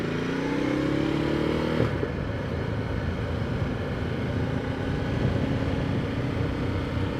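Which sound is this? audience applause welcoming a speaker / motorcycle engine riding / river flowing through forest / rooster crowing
motorcycle engine riding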